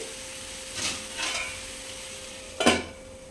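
Flat beans with salt being stirred in a pan for a green-chilli fry: three brief spatula scrapes, the last the loudest, over a faint steady background hum.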